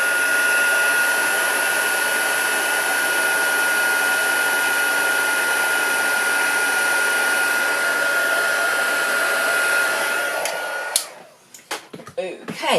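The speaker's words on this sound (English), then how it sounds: "grab my heat gun" Close, loud heat gun blowing hot air steadily for about ten seconds during a craft project, then cutting out, followed by a few brief handling knocks.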